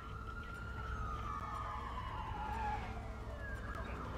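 A police car siren in the video game Watch Dogs 2 wails with a sweeping tone that rises and falls over a steady engine and road rumble, loud and continuous throughout.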